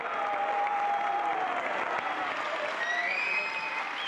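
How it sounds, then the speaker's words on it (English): A crowd applauds and cheers at a motorsport medal ceremony, steady clapping and shouts blended with distant whistles, heard from afar. "and a huge cheer, no doubt"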